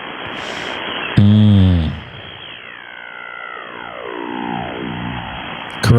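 Noise on an HF ham radio band received on an Icom IC-7610 at night, loud static bursts, sweeping heterodyne tones gliding downward and a steady hiss filling the whole stretch.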